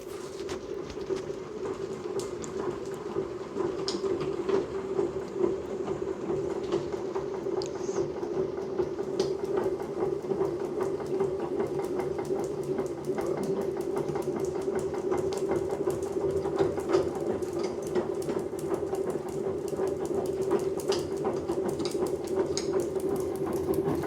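A honey extractor spins frames of honey with a steady mechanical whir and hum that holds constant and fairly loud from start to finish.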